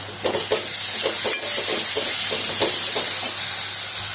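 Garlic and green chillies fry in a pan of hot oil with a steady loud sizzle, broken by regular stirring scrapes about every half second, with no voices.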